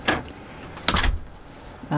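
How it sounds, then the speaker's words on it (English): A door on a tiny solar-powered houseboat on pontoons is pulled shut from inside, giving a short scrape, a louder thudding close near the middle, then another brief knock at the end, close up and without talk. "I'm gonna close the door."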